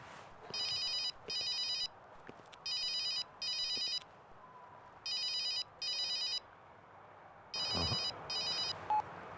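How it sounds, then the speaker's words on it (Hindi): A telephone rings in repeated double bursts with short pauses between, over quiet room noise, and nobody picks up. "कोई फोन ही नहीं उठा रहा है।"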